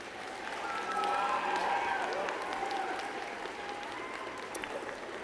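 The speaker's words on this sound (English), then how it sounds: "I invite you, the members of the graduating class, to reciprocate by applauding your friends and family, faculty and staff" Graduating students applaud at a university convocation ceremony, sustained crowd clapping that swells after the first second and then holds steady with some faint vocal tones mixed in.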